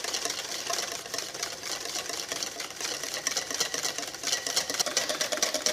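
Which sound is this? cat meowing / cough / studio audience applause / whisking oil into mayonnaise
whisking oil into mayonnaise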